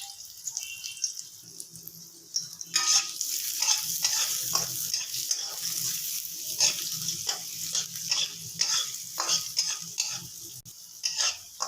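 Onion and chopped garlic frying in oil for Bengali kalmi shaak bhaji, a steady close sizzle broken by repeated stirring scrapes and clinks, with no talk.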